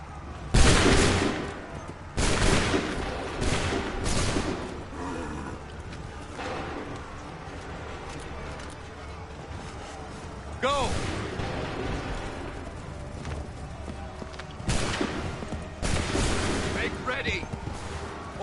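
Musket volleys crack out in Assassin's Creed 3, several loud bursts spaced across the scene with shouted commands and background battle noise between them.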